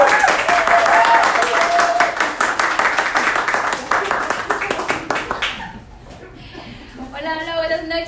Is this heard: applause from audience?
yes